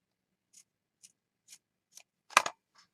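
Scissors snipping through a small piece of lace, five light, evenly spaced clicks close to the ear, followed by one louder, longer crunching cut and a final faint snip, in an otherwise silent room.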